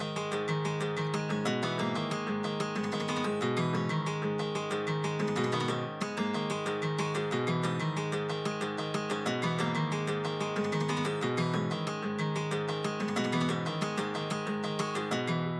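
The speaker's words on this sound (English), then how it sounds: "For this example I will use the steel guitar" Steel guitar from a Chris Hine guitars Kontakt sample library plays a sustained MIDI-driven passage with repeated plucked notes and steady chordal tones, loud and continuous throughout with no talking.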